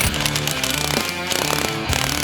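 A power tool hammers off the pitman arm nuts on a 1999–2003 Ford F-250/F-350 steering setup in loud rattling bursts, with two brief pauses between.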